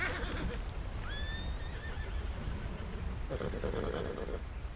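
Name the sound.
tense horses neighing, from a video game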